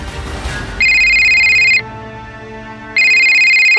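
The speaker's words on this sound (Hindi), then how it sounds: "फोन" A telephone rings nearby in two bright electronic bursts, each about a second long, separated by a short pause over a quiet room background.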